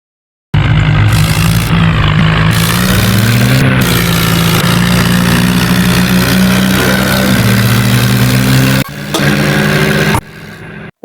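A new tractor driven at full speed on a road, its engine a loud, steady, close drone with low rumbling harmonics that briefly dips near the end before cutting out.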